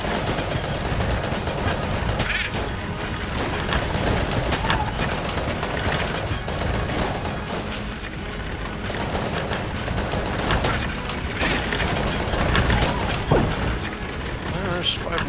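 Carbine gunfire in the video game Enter the Gungeon: rapid, repeated shots over a dense, steady bed of game effects and music, with a voice talking throughout.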